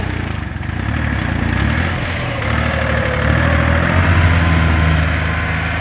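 Small Nagano farm tractor engine running steadily close by, a continuous low rumbling drone with slight rises in loudness and no speech.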